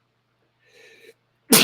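A single sneeze comes near the end, a sharp, loud burst following a soft, brief breathy intake, with near silence before it.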